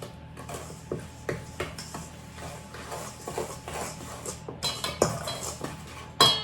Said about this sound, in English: We'll stir it together.